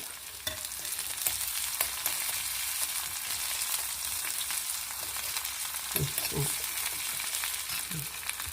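Mustard seeds and chillies crackling in hot tempering oil, a steady close hiss with scattered pops and a few stirring knocks toward the end, no voices over it.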